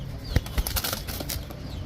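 A Pakistani Rampuri pigeon beats its wings in a burst of quick, close flapping, with soft fluttery thumps and a few sharper claps over a light background, no voices.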